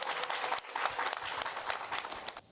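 An audience at a disability empathy talk gives a big round of applause for a rapper. Dense clapping from many people runs continuously and fairly close, with no voices over it.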